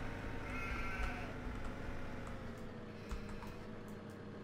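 Flock of sheep bleating on a Farming Simulator 17 game farm, several overlapping bleats early and scattered calls later over a steady low background hum, moderately loud with no talk.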